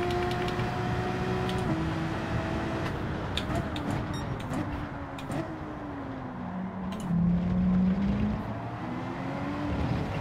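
Race car engine in Gran Turismo 7 during a Super GT race, a steady droning whine with shifting pitch as the throttle is stabbed on and off, continuous and close throughout.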